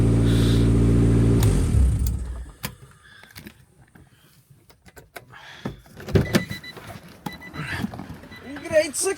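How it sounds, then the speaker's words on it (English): A Honda Civic engine, recently rebuilt after failing at the track, revs loudly up close at night, then drops away to quieter rumbling and idle with scattered clicks and bumps before revving again. "Classic Civic cranking up right there."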